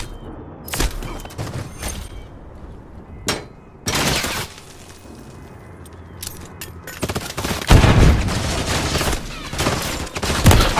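Gunfire in a shooter video game at a highrise: bursts of loud, close shots and rapid fusillades with gaps between, heaviest toward the end.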